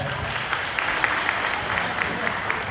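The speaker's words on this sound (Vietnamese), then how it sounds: "Xin quý vị cho chúng tôi một tràng vỗ tay ạ." An audience at a Thừa Thiên Huế–Bình Dương hometown association gathering applauds in a dense, even patter of many hands, steady and fairly close throughout, with a voice speaking over it.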